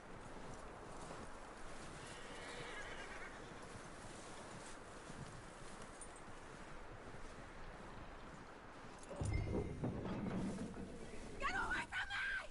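Horse hooves clip-clop steadily in the Red Dead Redemption 2 video game under rushing wind, with a louder burst of movement and noise near the end.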